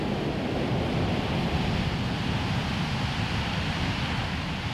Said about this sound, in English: The sound of the waves is awesome.